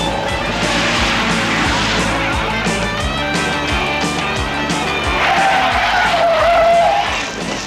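Tires squealing on a 1984 Ford Turbo Coupe being driven hard, a loud sustained skid over engine roar with background music.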